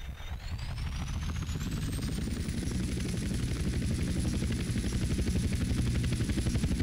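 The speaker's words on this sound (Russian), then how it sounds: "ну и с вертолетом-то, наверное, попроще будет" A helicopter in GTA San Andreas spins up and hovers, its rotor chopping in a fast steady pulse with a rising whine, loud and continuous.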